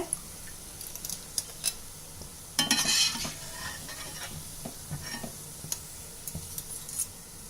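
Rava sweet pieces fry in oil in a pan over a medium flame, giving a soft steady sizzle with scattered scraping and clinks of a stirring utensil.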